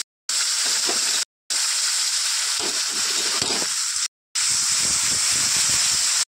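Cashews and curd fry in a pan, giving a loud, steady hissing sizzle broken by two short gaps of silence, with faint stirring underneath.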